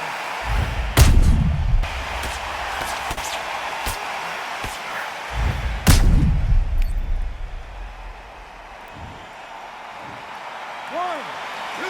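Two sharp gunshot blasts roughly five seconds apart in a video game headshot replay, each a loud crack with a booming low tail, heard over steady background noise and game ambience.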